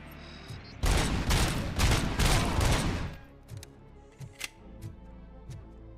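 Game gunfire from Robocop: Rogue City, a cluster of loud broadband shots over about two seconds, then several sparser, fainter single shots with quiet gaps between them.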